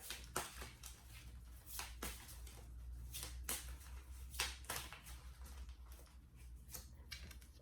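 Tarot cards shuffled hard by hand at a reading table, a run of sharp riffling bursts and slaps spaced irregularly over a low hum, fairly quiet and close.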